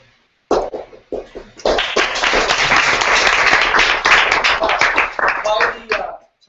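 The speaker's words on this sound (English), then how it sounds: "You started a slow clap." Hands clapping in a loose, irregular rhythm that becomes steady, dense applause after a short gap and continues near and loud for several seconds before cutting off.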